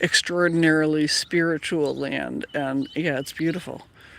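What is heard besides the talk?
No distinct noise like a dog, phone or traffic.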